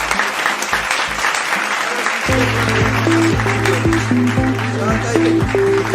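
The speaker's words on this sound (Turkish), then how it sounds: "Hepimiz onu alkışlıyoruz" A studio audience claps for a young contestant on a children's quiz show, the applause dense and continuous, while a bright musical jingle with sustained tones joins partway through.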